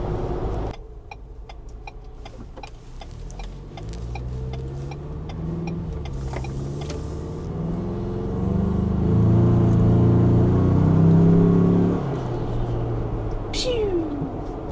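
A 2021 Ford Bronco with a 2.3L engine and a K&N cold air intake idles, then revs and swells before settling back, while people talk over it.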